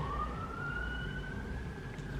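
Emergency vehicle siren outside, a single faint, distant rising wail drawn out over about two seconds above low traffic rumble.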